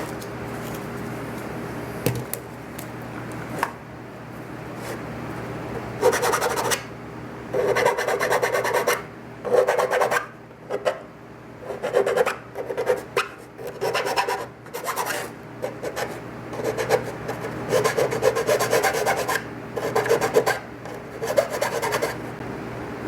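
Steady rasping file strokes smooth the rough edges of a handmade helmet piece. The strokes come in rhythmic bursts, close and fairly loud, with a few short pauses and no talking.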